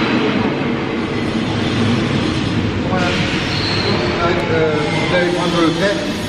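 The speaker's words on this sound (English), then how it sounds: "Oh, another train is coming" A train rumbles and rolls into a station in Antibes, France, with steady noise and faint squealing wheels, while people talk nearby.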